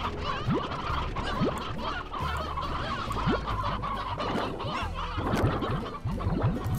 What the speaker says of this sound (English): I'll just go ahead and suck up some chickens.